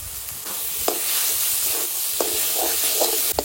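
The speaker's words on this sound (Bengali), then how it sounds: "ভাজা চিংড়ি মাছগুলো দিয়ে দেবো।" Fried shrimp stirred into pumpkin flowers frying in a pan, with a steady broadband sizzle and hiss throughout and a few soft utensil clinks over it.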